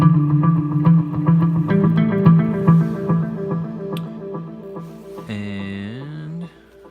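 A Chase Bliss delay pedal synced to a 120 BPM clock repeats a guitar line in dotted-eighth echoes, producing a dense rhythmic wash of repeating notes, then ends in a pitch-bending, warbling swell before cutting off; loud and close with no talking.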